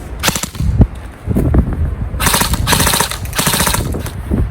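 Rapid bursts of fire from a Cyma AK-74U airsoft rifle with a cone-shaped flash hider, a quick string of sharp cracks followed by two longer sustained volleys, loud and close.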